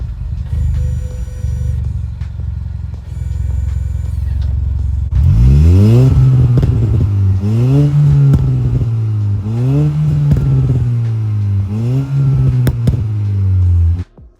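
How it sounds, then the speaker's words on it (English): A Jaguar XE with a 2-litre four-cylinder turbo petrol engine and eight-speed ZF gearbox accelerates hard, engine note rising and dropping through several gear changes in a steady, loud in-cabin drone. "Powering the Jaguar XE is going to be a 2-litre 4-cylinder turbo petrol engine"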